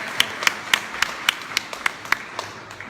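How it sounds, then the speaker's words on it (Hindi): A small audience at an evening Hare Krishna talk claps hands in a steady, fairly slow rhythm of about a dozen crisp claps that fade slightly toward the end, heard without voices. "ताली तो बजाओ कम से कम भाई।"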